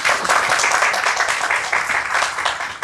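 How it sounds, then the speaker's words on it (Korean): An audience at an academic PR seminar claps to welcome the first presenter, an SBS reporter, in a steady, dense round of applause lasting nearly three seconds. "첫 번째 발제를 열어주실 배여온 기자님을 박수로 맞아주시기 바랍니다."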